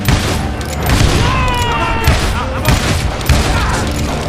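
Close, loud bursts of gunfire from hired guns in the Western shooter Call of Juarez: Gunslinger, sharp repeated shots and thumps in an uneven rhythm, mixed with game voices shouting over the shooting.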